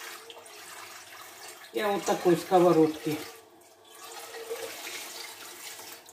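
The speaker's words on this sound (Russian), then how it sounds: "Сольем водичку, промоем сковородку." Water poured from a frying pan into a kitchen sink, a brief splashing gush with gurgling and drips, close by, followed by a quieter trickle while a person talks over it.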